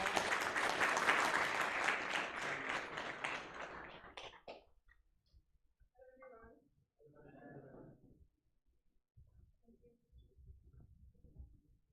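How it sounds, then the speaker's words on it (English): Audience applause greets a speaker at a DevFest Jammu 2022 tech event, loud and dense at first, then tapering off after a few seconds, leaving scattered quiet rustles and faint bumps. "Kindly give a big round of applause."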